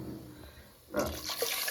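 Water pours into a large clay pot for toddy-shop style mackerel curry. After a quiet moment, a close, steady splashing pour starts and continues to the end.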